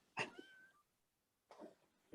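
A person imitates a cat meowing: one drawn-out meow with a falling pitch, then a pause and a second shorter meow, close and clear in a quiet room.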